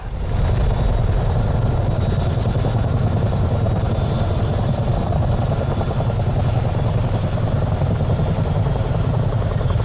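A US Army Chinook helicopter in Microsoft Flight Simulator climbs with a loud, steady twin-rotor drone and engine roar that continues unbroken and close throughout.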